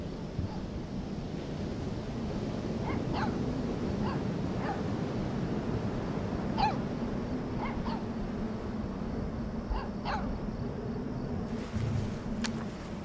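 Puppy on a beach in the video game Life is Strange 2, scattered short barks and yips over steady surf-like background noise, fairly faint and irregular.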